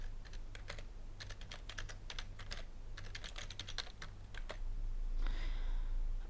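Password being typed on a computer keyboard during an online sign-up: a steady run of quick, close key clicks with short pauses, ending in a brief louder burst of keystrokes over a low electrical hum.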